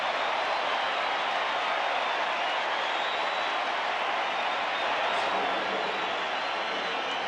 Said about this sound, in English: the crowd noise grows even more as they feel it